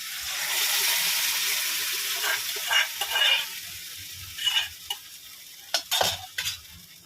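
Boiled masoor dal cooked with salt, turmeric, green chilli and onion is tipped into a pan of fried tomatoes, starting with a steady sizzle and stir that fade into scattered wet splashes and scrapes, fairly close and moderate.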